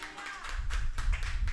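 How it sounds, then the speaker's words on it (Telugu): A church congregation bursts into applause, a dense, steady wash of many hands clapping that fills the room, with a voice faintly audible at the start. "ఒకసారి గట్టిగా చప్పట్లు కొట్టండి"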